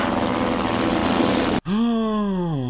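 A propeller airplane drones loudly and steadily, cutting off abruptly before an engine tone resumes with a clear pitch that slowly falls, as in a scene from a 1983 French film.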